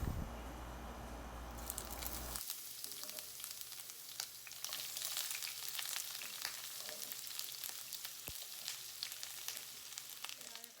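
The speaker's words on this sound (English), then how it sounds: "Once my oil is really hot, I'm gonna start by adding my onion." Onion dropped into very hot oil in a pan, bursting into a loud, steady sizzle and crackle that carries on without a break, with no one talking.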